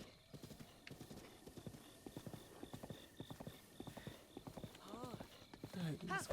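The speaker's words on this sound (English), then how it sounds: "Oh, I'm sorry. My horse." A horse in Breath of the Wild trots with steady rhythmic hoof clip-clops, then gives a loud close whinny near the end, with someone talking over it.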